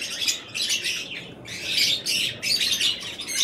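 A pale fellow budgerigar in a breeding setup chirps and squawks in quick, close bursts, repeated throughout without any talking.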